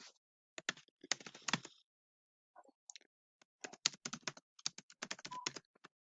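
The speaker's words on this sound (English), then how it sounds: "Typing." Fingers tap a computer keyboard in two bursts of rapid, close clicking keystrokes, separated by a short pause and a few scattered taps, with no voices.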